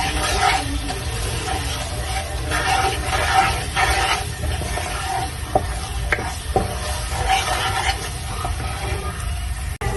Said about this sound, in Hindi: एक टीस्पून हल्दी, इसको अच्छे से भून लेंगे।